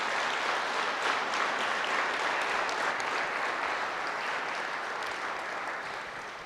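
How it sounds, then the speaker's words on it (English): A conference audience claps for itself after a keynote speech, a steady, fairly faint round of applause from a large hall that slowly fades. "if you can kindly put your hands together to cheer yourself for that"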